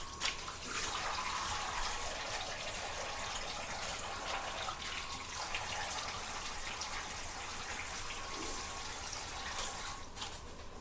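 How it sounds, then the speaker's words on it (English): Water pours steadily into a basin to soak clothes for hand washing at a home on well water, a continuous close rushing splash running the whole time with no talking. "we're just going to let that soak. And I don't put a whole lot of water in there either."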